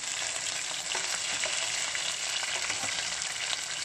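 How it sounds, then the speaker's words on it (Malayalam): Chicken legs fry in a little oil for a Kerala-style chicken fry, giving a steady, close, crackling sizzle with occasional pops throughout, and no one speaking. "ഞാനിന്നിവിടെ ഉണ്ടാക്കിയ ചിക്കൻ ഫ്രൈ ആണിത്"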